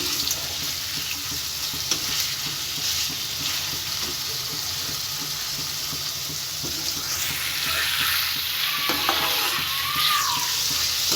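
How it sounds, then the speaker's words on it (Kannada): Paneer pieces fry in oil in a pan, giving a steady, close sizzle with light stirring scrapes and small crackles throughout, no talk. "ನೋಡಿ, ನಾನು ಇಲ್ಲಿ ಪನ್ನೀರ್ ಹಾಕೊಂಡು ಫ್ರೈ ಮಾಡ್ಕೊತಾ ಇದ್ದೀನಿ"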